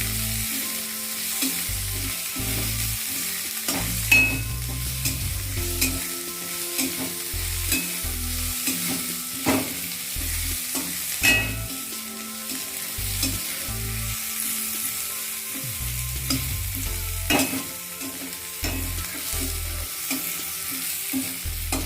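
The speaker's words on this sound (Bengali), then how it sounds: "পেঁয়াজ কুচি দিয়ে দিচ্ছি। পেঁয়াজটা খুব একটা লাল করতে হবে না, হালকা একটু নরম হয়ে আসলেই হবে।" Chopped onion frying in a pan for a restaurant-style palak paneer, a steady sizzle with repeated spoon stirring and scraping knocks at an irregular rhythm, close and fairly loud, no voices.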